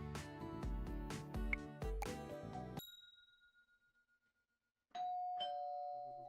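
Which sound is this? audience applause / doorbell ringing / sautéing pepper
doorbell ringing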